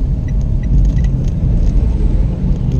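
Heavy trucks rumble along a damaged, potholed road, a steady loud low-frequency engine and tyre drone with faint rattles, no talking.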